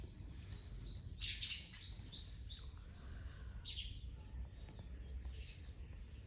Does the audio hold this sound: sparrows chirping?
yes